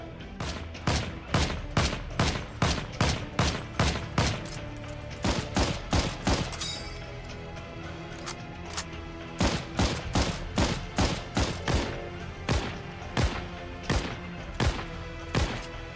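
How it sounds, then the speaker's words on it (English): Rapid gunfire from infantry weapons in the online World War II shooter Heroes and Generals, with loud bursts of sharp shots in quick runs, a brief lull in the middle, then single spaced shots and short volleys, no talking. "Each gun has a specific sound to it, and each starter weapon feels equally meaty"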